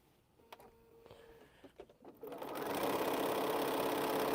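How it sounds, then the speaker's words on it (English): A sewing machine stitching jelly roll fabric strips starts after a few light clicks and taps, then runs up into a steady, rapid whir that builds and holds, close and clear with no talking. "But we're going to sew it on here anyway."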